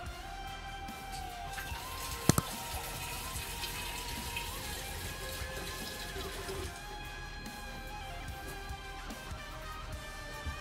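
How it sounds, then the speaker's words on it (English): Liquid mead must, a toffee caramel bochet, poured through a funnel into a jug, giving a steady continuous trickle and gush of filling liquid with a couple of sharp clinks early on. "I'm going to pour it in with my funnel"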